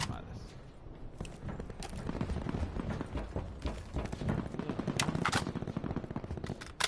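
Tactical sniper rifle shots ring out in the Call of Duty Blackout battle royale game, sharp cracks scattered over a busy bed of in-game footsteps and movement, with voices talking throughout.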